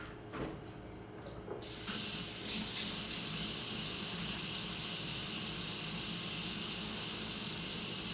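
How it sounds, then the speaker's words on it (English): Kitchen tap turned on for handwashing: a couple of soft knocks, then water gushes on and runs in a steady, close splashing stream into the sink. "Okay, wash your hands."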